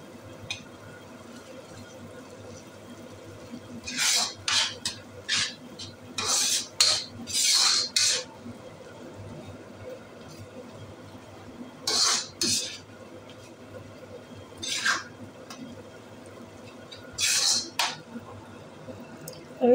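Spice masala roasting slowly on low heat in a pan, with a spoon scraping and stirring in short, irregular strokes over a quiet, faint background.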